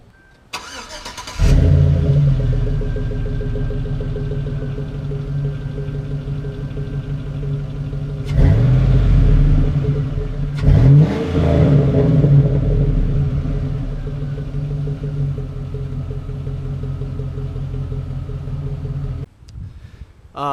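A 2004 Chevy Silverado pickup with a Flowmaster 40 Series muffler fires up and idles with a deep, throaty exhaust rumble, swelling in a couple of revs before cutting off; loud and close.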